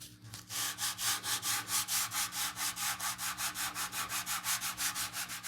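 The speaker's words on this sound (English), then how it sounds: "And then I can start my wet sand process." Steady, rhythmic back-and-forth rubbing strokes, about four or five per second, as paint on a Victory hammer is wet sanded by hand. The sound is close and continuous with no talk.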